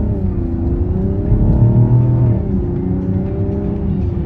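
A Mazda CX-70 Turbo SUV accelerates, a steady loud engine drone that rises and shifts in pitch as it gathers speed, heard from inside the cabin with no voices.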